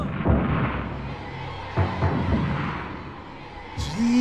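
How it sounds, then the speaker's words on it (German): Ship cannons of an admiral's fleet bombarding the Tsar's fleet in a staged opera scene, heard as a few heavy booming blasts with rumbling decay, one strong burst near the start and others following, over orchestral background. "beschießt des Zaren Flotte mit euren Kanonen"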